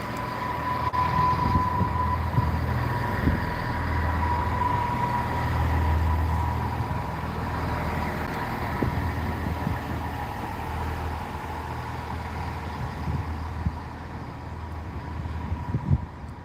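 Class 165 diesel multiple unit train pulling away through Gloucester, a steady low engine drone with rumbling wheels, fairly distant and continuous without speech.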